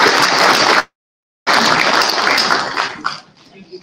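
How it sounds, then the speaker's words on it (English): An audience applauds a congresswoman arriving at a celebration-of-life service, the dense clapping breaking off briefly, then resuming and thinning out toward the end. "Let's give her a hand clap as she comes."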